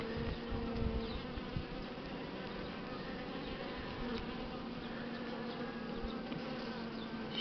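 Buckfast honeybees buzz steadily at a hive while virgin queens are introduced into a split, a dense continuous drone with no voices, fairly quiet and close throughout.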